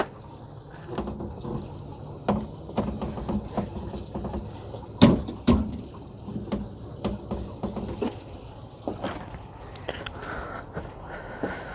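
Water runs and gurgles through the black tank flush of a motorhome, a faint continuous splashing flow broken by irregular knocks and drips, close and quiet with no voices.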